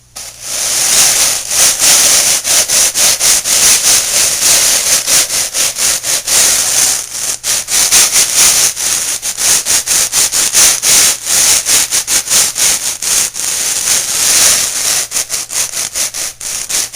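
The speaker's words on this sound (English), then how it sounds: "sand the areas with some coarse sandpaper to remove any high spots" Coarse sandpaper worked over dried floor underlayment in fast, rhythmic back-and-forth strokes, a loud close scratchy rasp repeating steadily for the whole stretch with no voices.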